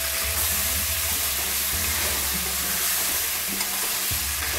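Chopped ridge gourd goes into hot oil with cooked-down spices and sizzles steadily, a loud continuous frying hiss with low clattering of stirring underneath and no voices.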